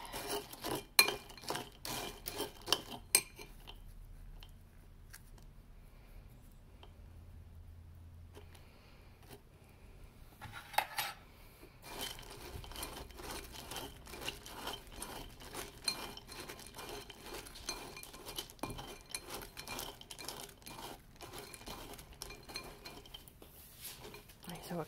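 A spoon mixes coconut oil and honey in a dish, giving a long run of quick, faint clinks and scrapes with a brief lull partway through, under a quiet room.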